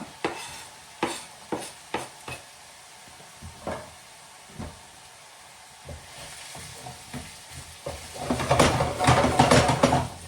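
Onions frying in a pan with ginger and garlic, a few sharp stirring clanks and scrapes at first, then a loud, steady sizzle rising toward the end.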